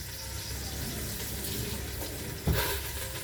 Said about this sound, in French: je lave mon oignon